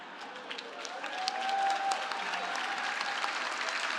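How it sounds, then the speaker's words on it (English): A gathered audience at a recovery community event gives each other a warm round of applause, a soft, even patter of many hands that rises slightly and continues steadily at moderate distance. "Please give each other a warm round of applause"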